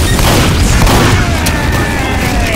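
A teleporter blowing up in Team Fortress 2 gives a loud, sustained rumbling boom that fills the whole stretch, dense and continuous with no clear break.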